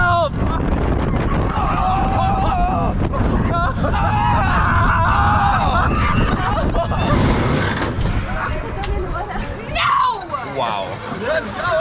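A roller coaster ride at Walibi Holland, with loud rushing wind buffeting the microphone, rattling track noise and a rider screaming somewhere behind, mixed with other people's voices.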